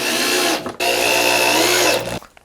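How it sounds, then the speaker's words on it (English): A power drill with a dull Forstner bit bores into wood while a ladder is built for an indoor playground. It gives a loud, steady motor whine in two close bursts with a brief stop between them. "The Forstner bit must be getting dull."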